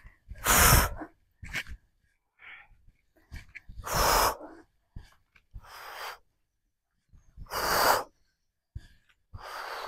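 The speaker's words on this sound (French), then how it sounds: "Expire." A person exhaling deeply during a morning gym and breathing routine: several strong, close, airy breath bursts separated by silence, with softer breaths in between and no speech.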